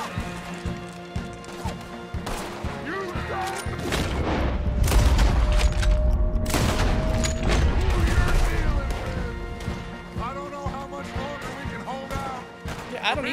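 Red Dead Redemption 2 gunfire in a battle against the army, with scattered loud shots and booms cracking out amid clattering action, mixed with speech throughout.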